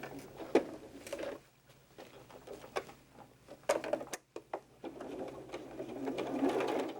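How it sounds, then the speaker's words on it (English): A sewing machine stitches a quarter-inch seam on a fabric doll, running in short bursts with pauses and clicks between runs, close and fairly quiet. "I'm going to go ahead and sew this now with a 1/4 inch seam allowance."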